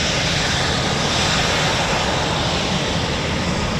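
Eurofighter Typhoon FGR4 jets of 29 Squadron, a flight of four, taking off together at RAF Coningsby as a loud, unbroken roar that holds steady throughout.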